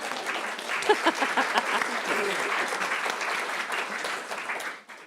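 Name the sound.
audience applause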